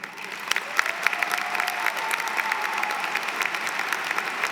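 An audience applauds at a virtual university commencement ceremony: steady, dense clapping at moderate distance throughout, with no talk over it.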